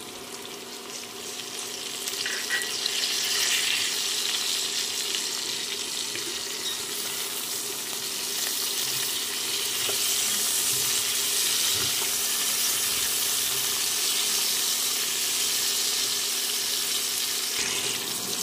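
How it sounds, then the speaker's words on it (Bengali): Chopped capsicum frying in a pan with nearly boiled potatoes for a Bengali-style aloo paneer dalna, giving a steady close hiss and sizzle that swells after a couple of seconds and runs on unbroken with no speech. "দিয়ে দিচ্ছি আগে থেকে কেটে রাখা ক্যাপসিকাম কুচনো"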